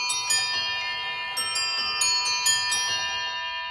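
A massive 19th-century exhibition table clock with automata chiming a Cambridge sequence on eight bells, its bright metallic strikes ringing one after another with long sustained overtones, close and clear with no talking.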